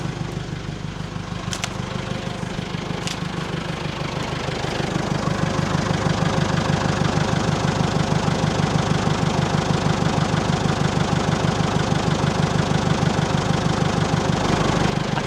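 Massey Ferguson 372 tractor diesel engine running while moving, a steady close chugging rumble with even rapid pulses that grows slightly louder after a few seconds, with a couple of faint clicks early on.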